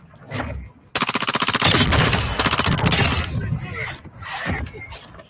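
Sniper rifle gunfire in the video game Redfall, heard as a loud burst of rapid sharp shots running for about two seconds, then trailing game noise with a voice speaking around it.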